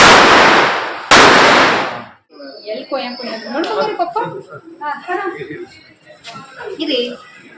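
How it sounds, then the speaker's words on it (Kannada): Two loud Diwali firecracker bangs burst close by, each with a long crackling tail, followed by several people talking. "ಅಲ್ಲಿ ಪಟಾಕಿ ಹಚ್ಚಿರೋದಕ್ಕೆ ನಾವು ಎದುರುತ್ತೀವಿ"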